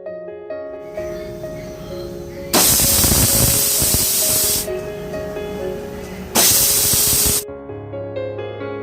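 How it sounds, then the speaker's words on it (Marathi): Pressure cooker whistle releasing steam on a stove at medium flame while cooking urad dal, two loud bursts of steam hissing, each lasting one to two seconds, over a steady background hum. "कुकरचं झाकण लावून चार शिट्ट्या घ्यायच्या आहे मीडियम फ्लेमवरती"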